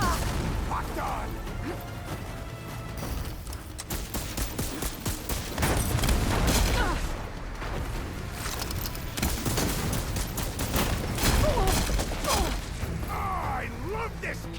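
Heavy cannon fire in the video game Horizon Forbidden West, Burning Shores DLC: a dense, continuous barrage of booms and mechanical clatter with music and battle noise, loud throughout, with a voice speaking over it.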